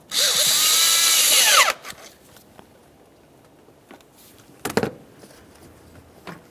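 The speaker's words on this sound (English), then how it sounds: "Let's tighten that clamp." A cordless power driver tightens the hose clamp on the air inlet tube of a 2012-2018 Nissan Maxima 3.5L V6, whirring loudly for under two seconds, then a few faint clicks and one short rattle.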